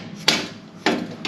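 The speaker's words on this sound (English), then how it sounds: "careful not to beat the hell out of his bearing because he's got to reuse this one" Hammering on a wheel bearing during a ball joint install on a 2016 Jeep JK, three sharp metallic strikes spaced unevenly, close and moderately loud.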